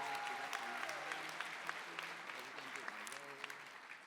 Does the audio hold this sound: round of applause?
yes